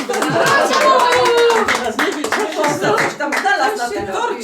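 Clapping and cheering at a child's second birthday party, a burst of hand claps under excited voices and chatter throughout, fairly close and loud.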